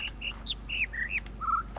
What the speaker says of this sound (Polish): Gołębie cholerne.